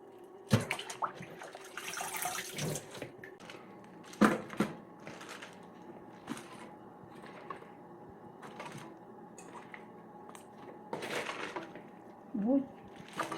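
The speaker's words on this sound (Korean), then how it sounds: "배추만 2번 씻었어" Napa cabbage being washed by hand in water for water kimchi, with soft splashing, sloshing and intermittent rustling bursts nearby, under a quiet background hum.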